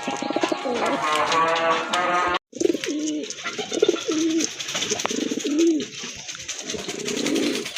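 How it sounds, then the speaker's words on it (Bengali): A pair of Chuina pigeons coo in low repeated throaty phrases close to the microphone, with a brief sharp cut near the middle and someone talking over the opening. "দেখেন অসাধারণ এক জোড়া কবুতর। এটা কিন্তু চুইনা কবুতর"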